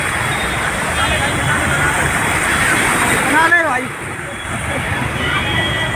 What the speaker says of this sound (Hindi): बहुत ही पानी लगा हुआ है रोड पे